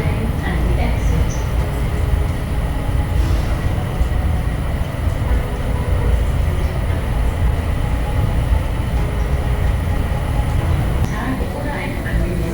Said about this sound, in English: This train takes you to gates G and H, the baggage claim and the exit.